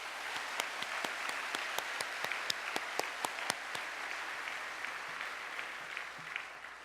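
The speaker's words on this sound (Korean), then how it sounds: "우리 선교사님들 박수 한번 주십시다." A church congregation applauds missionaries at a mission revival service, a sustained wash of many hands clapping with sharper individual claps standing out, heard from a distance and fairly faint, with no talking.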